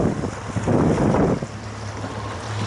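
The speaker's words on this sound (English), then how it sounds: "boy, it's some kind of big waves" Big waves surge and wash against a jetty, a loud roaring swell under heavy wind buffeting the microphone, with a steady low boat-like hum underneath.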